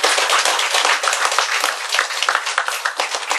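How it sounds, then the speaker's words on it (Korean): An audience claps together at a Korean Buddhist sutra lecture, dense continuous applause filling the whole stretch, loud and close with no speech over it. "박수!"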